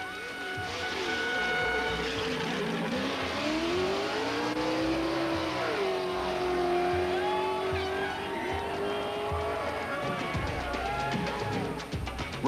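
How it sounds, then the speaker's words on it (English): Red Bull trophy truck leaving the Baja 1000 desert race start line, its engine revving hard and climbing in pitch as it pulls away, loud and sustained with crowd noise beneath. "Off the line at 10:55 is the number 83 Red Bull trophy truck."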